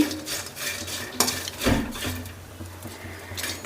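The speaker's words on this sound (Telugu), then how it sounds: "ఎండు చేపల్ని ఇలా పెనంలో వేసి ఓ ఐదు నిమిషాలు అయితే బాగా మంచి కలర్ వచ్చే వరకు వేయించుకుందామండి" Dried fish dry-roasting in a pan, stirred with a utensil, producing close scraping and rubbing strokes in uneven bursts over a low background hum.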